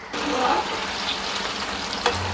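Chicken pieces for street-style chicken fried rice sizzle steadily in hot oil, close and continuous, with no talk, and the sound stops abruptly at the end.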